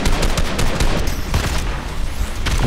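Rapid automatic gunfire in Fortnite, a loud, close fusillade of sharp shots in quick bursts that fill the whole moment.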